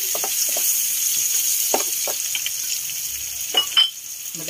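Garlic and then tomatoes sauté in a pan for Filipino mung bean stew (ginisang monggo), a steady close sizzle broken by a few soft stirring scrapes and light utensil clinks.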